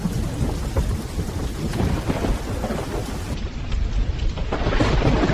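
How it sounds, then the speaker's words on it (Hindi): Loud thunder rumbles and crackles over a steady downpour of heavy rain, the storm roaring continuously and swelling louder toward the end, with no voices. "बिजली की कड़क से पूरा आसमान हिल रहा था।"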